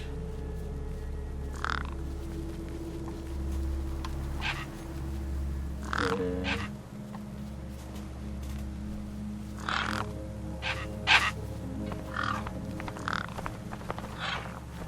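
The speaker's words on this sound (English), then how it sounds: "No way I was going to get between those birds and their feast." Crows caw and croak in short, scattered bursts around a feast in the video game Beyond A Steel Sky, calling repeatedly over a steady low ambient hum with no talk.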